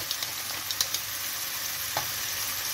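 Porcini mushrooms sizzle in a hot pan while being cooked for a mushroom risotto, a steady close hiss broken by a few soft clicks and stirring taps, with no one speaking.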